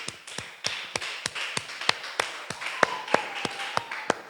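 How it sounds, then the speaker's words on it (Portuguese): Church congregation clapping together in a steady, evenly spaced rhythm of crisp, distinct claps, moderately loud and close, with a faint tone running beneath the later beats. "Uma salva de palmas para Jesus"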